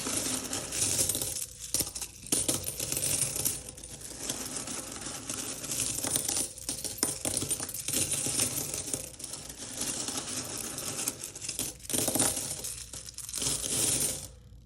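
Coins are counted and dropped in continuous handling, dense metallic clinks and jingles piling up with brief pauses, close and steady for the whole stretch.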